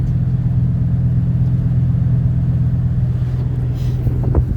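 A 1965 Ford C850 dump truck's cold engine idles at about 1,000 RPM, a steady, loud low rumble heard up close and alone, with a brief rise near the end.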